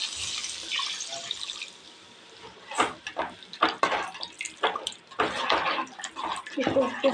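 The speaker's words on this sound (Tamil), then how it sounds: "நம்ம தேவையான அளவு தண்ணி ஊற்றிக்கலாம்." Water splashes and trickles into a pan of horse gram curry at home, starting as a steady pour, then a pause, followed by irregular splashes and drips, close and moderately loud.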